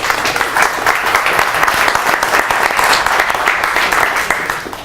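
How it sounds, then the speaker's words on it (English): An audience at a data hackathon event gives a round of applause, dense sustained clapping from a room full of people, loud and close throughout with no break. "Make a round of applause."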